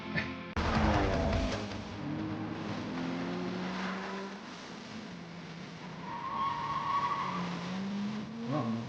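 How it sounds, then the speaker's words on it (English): Tires squeal and skid in sliding pitches as a car drifts through corners in the Initial D anime, engine noise rising and falling beneath a loud, continuous screech with no talking. "Like showing drifting in the car scenes."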